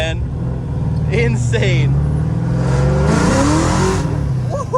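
A 1986 Ford Mustang Foxbody engine rumbles and pulls hard under acceleration from inside the car, a loud steady drone rising in pitch while a voice talks over it.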